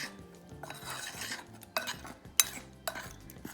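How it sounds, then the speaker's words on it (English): Dry ingredients for aloo naan dough, flour with sugar, salt and eno, being mixed in a metal bowl: steady scraping and clinking of a spoon against the bowl, with a few sharper knocks near the end. "So all the dry ingredients we are just mixing them very nicely."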